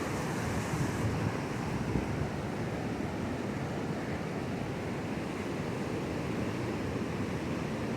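Pacific Ocean waves wash up close on the beach at Rosarito. A continuous loud roar of surf stays steady, heavily mixed with wind buffeting the microphone, and no one speaks.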